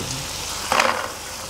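Fried bori, small sun-dried lentil dumplings, sizzle in hot oil in a pan alongside fried potatoes, with a steady hiss and a brief louder crackle of stirring midway.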